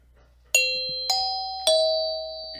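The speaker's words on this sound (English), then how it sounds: "I heard the jingle-jangle of sleigh bells." Three bright, ringing chime strikes, evenly spaced and each left to decay, stand in for sleigh bells in a radio drama; the tones are clear and close over a quiet background.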